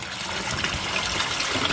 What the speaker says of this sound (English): we're getting a bit of splatter now